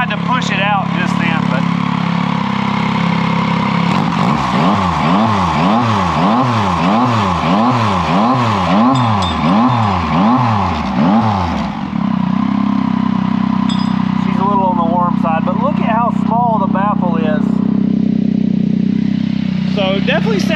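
2022 Yamaha MT-09 SP motorcycle with its exhaust baffle out, revving on a dyno: loud rising and falling engine revs in a rapid wavering pattern, then a throaty idle with further blips, a voice talking over it.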